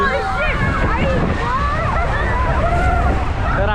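Water sloshing and waves rocking a boat near Niagara Falls, with strong wind buffeting the microphone in a steady, close roar; people talk over it throughout.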